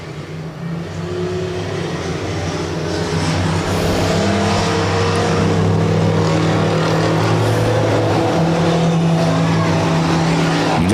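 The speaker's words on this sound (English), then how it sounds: "Strictly stock guys putting on a good race." Strictly stock race cars run in a close pack around a dirt speedway, engines droning steadily and swelling slightly as they pass, with a continuous roar and faint crowd or announcer noise underneath.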